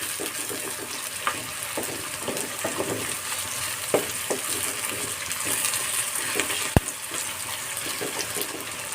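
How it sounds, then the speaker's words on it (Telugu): Fenugreek seeds, onion, green chilli and curry leaves fry in hot oil as the tempering for an Andhra-style fish curry, giving a steady close sizzle with a few light clinks of a stirring spoon against the pan. "మెంతులు, ఉల్లిపాయ, పచ్చిమిర్చి, కరివేపాకు, ఈ తాలింపులు ఇలా వేగుతుంటే మంచి వాసన వస్తుంది."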